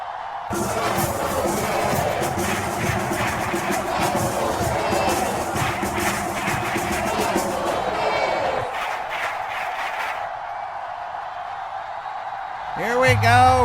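Stadium crowd noise at Soldier Field in Chicago in the football game Madden NFL, a broad steady roar under commentary voices, dropping away near the end before a brief louder swell.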